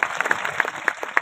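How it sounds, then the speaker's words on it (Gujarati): Audience applause welcoming a saint at a rural devotional gathering with bhajan and satsang, a brief burst of scattered, uneven clapping. "આપણા દોલતરામ બાપાને ખૂબ તાળીઓથી વધાવો"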